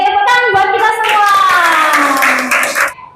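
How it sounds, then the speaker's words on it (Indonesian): Children clap hands in a primary school class, a burst of scattered claps mixed with loud sustained voices, the clapping fading out near the end. "tepuk tangan buat kita semua"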